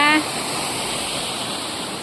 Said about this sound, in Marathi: पाण्याचा धबधबा